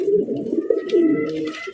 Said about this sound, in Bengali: দেখেন কত বড় সাইজে একজন আপনার বাংলাদেশি বোম্বাই কবুতর পাইতেছেন